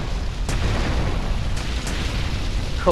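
A deep, rumbling explosion in GTA Vice City goes off as a factory is blown up, booming loud and continuous with a few sharp crackling bursts over the roar and no talk.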